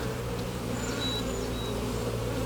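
Honeybees buzzing around hive frames holding capped queen cells, drones, pollen and brood, a steady continuous hum with a few higher passing whines of individual bees flying close, with no voices.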